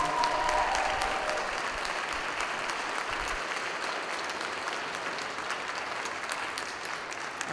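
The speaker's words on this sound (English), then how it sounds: "Let's give a big round of applause for our senior students" Applause from a high school spring choral concert audience honoring senior students, sustained dense clapping that fills the hall, steady and moderately loud throughout.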